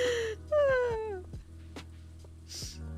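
A cat meows in a video game, one drawn-out meow that slides downward in pitch with a second shorter one after, clear and close over a steady low game hum with faint clicks.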